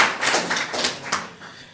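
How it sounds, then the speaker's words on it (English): A short burst of audience clapping at an agriculture ceremony, several scattered claps over under two seconds, moderately loud and thinning out toward the end with no voices. "Give them a round of applause"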